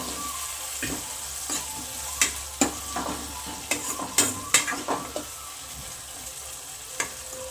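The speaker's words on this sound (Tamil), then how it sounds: "இப்படியே போட்டு போயிட்டா நல்லா வதக்கினே இருப்போம்." Onions being sautéed in a pan for tomato thokku: a soft steady sizzle under a series of sharp spatula scrapes and taps against the pan, bunched in the middle and then thinning out.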